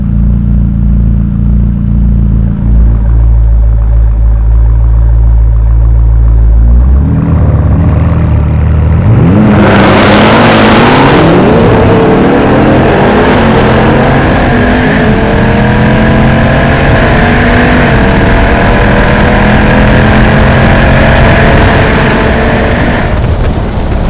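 A McLaren 600LT and a 1000 HP Jeep Trackhawk at a drag race launch: a loud low idle rumble gives way to a surging roar of engines accelerating hard, pitch climbing steadily through the gears and staying loud to the end, no voices.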